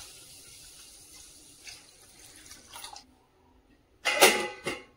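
Rice being rinsed clean in water in a kitchen, with a steady low trickle and splashing, then a brief pause before a louder burst of sloshing near the end.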